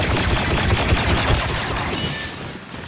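Pistol fire in a shooter video game, a dense run of sharp overlapping shots with busy game noise throughout, loud and close, no talking.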